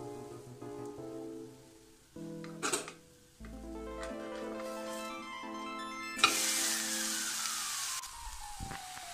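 Vegetable uthappam sizzling on a hot pan after being flipped, a quiet crackling hiss beneath a backing music track, with a sharp bright burst of frying toward the end.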